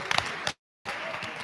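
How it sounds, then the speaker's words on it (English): A school prom assembly audience breaks into a dense wash of clapping, which cuts off briefly into silence and then resumes as steady, full applause. "Whoever started that knows you can totally buy my love with things like applause"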